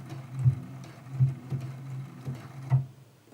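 A sewing machine test-stitches a blanket stitch on scrap fabric, giving soft, close thumps in an uneven rhythm, about five or six over three seconds, against a quiet background.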